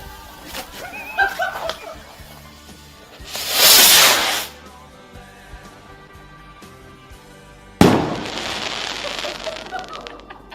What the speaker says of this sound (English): one of the highlights for me was when we used to buy those fireworks in Girona